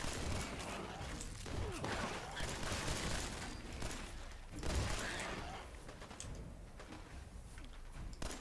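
Submachine gun fire crackles through a dense, noisy firefight in Fallout, with bursts of rapid shots under a constant wash of game sound. A faint voice may be present underneath.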